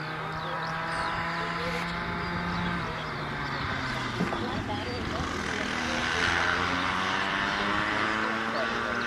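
A model aircraft flying at a club field, its engine drone rising and falling in pitch as it passes at a distance, with people talking over it.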